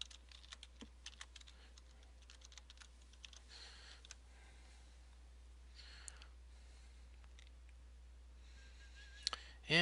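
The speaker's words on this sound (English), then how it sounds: "and enter our password" Light, irregular clicks of a password being typed on a computer keyboard during an operating system login, a short burst of keystrokes near and quiet, spaced unevenly across the clip with no talking.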